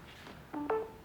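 A smartphone on a homemade wireless charger sounds a brief two-tone electronic chime as charging begins, close and clear over a soft room hiss, with no talking.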